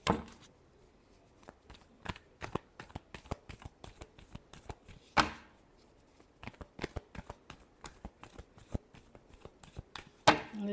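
Tarot cards are shuffled by hand at close range, a quiet run of crisp riffling clicks and soft slaps in an irregular rhythm, with a couple of sharper snaps as the deck is squared.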